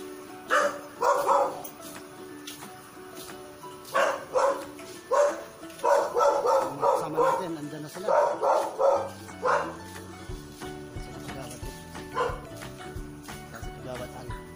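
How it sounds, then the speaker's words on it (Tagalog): A dog barks repeatedly and loudly in quick clustered bursts, some yippy, with a short pause between volleys and faint background activity. "Tumatahol na naman si Milo"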